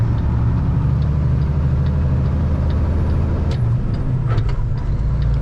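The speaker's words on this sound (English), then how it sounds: "Wow, look at this huge truck." A huge oil field truck rumbles past on a road near an oil field, a loud, steady low engine drone that fills the whole moment, with faint hiss and rattle rising toward the end.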